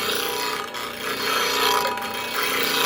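A wooden cheese board is sanded by hand in a woodworking shop, giving a steady, close scratchy rasp. The strokes pulse in repeated back-and-forth passes with no talking.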